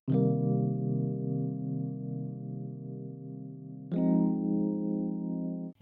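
Two sustained minor chords on a Wurlitzer electric piano, the first held for about four seconds and the second struck and held for about two, both clear and close with no voices.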